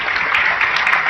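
Audience applause at an Indonesian talk event with Cak Nun, a steady broadband wash of clapping, fairly loud and continuous through the short clip with no clear voices over it.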